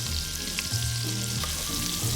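Eight finely minced garlic cloves and three red chilies fry in melted oil in a pan, giving a continuous close sizzle with soft crackles, with no talking.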